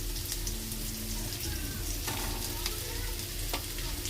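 Onion and coconut fry in oil in a pan at home, giving a steady, close sizzle with scattered crackles and the occasional scrape of stirring.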